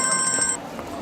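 A telephone rings in a home setting, a steady electronic tone pulsing for about half a second before stopping, with a low room hum underneath.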